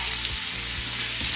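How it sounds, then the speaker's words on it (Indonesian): Shallots, garlic and chili fry in oil reused from frying salted fish, giving a steady close sizzle with a few soft stirring scrapes and no voices. "Lalu kita masukkan bumbu-bumbunya, bawang merah, bawang putih,"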